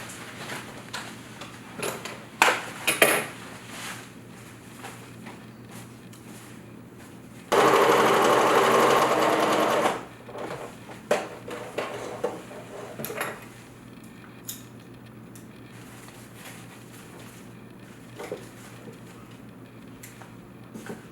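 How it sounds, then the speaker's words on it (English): A home sewing machine stitches a fabric circle onto the end of a yoga bolster tube, one steady whirring run of about two and a half seconds, set among quieter handling clicks and taps. "One of them I'm going to sew it all the way around."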